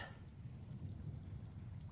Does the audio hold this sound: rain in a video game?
yes